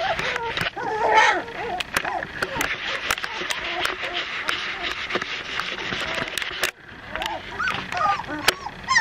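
Vizsla puppies, some of them long-haired, whine and yip in repeated short bursts outdoors during rain, with a person talking over them and a steady wet background.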